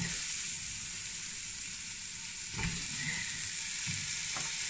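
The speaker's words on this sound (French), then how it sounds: "Un peu d'huile d'olive. On va mettre les oignons dedans, direct." Onions frying in olive oil in a pan for rougail saucisse: a dense, continuous sizzle crackles close by, with a couple of brief stirring scrapes partway through and no talking.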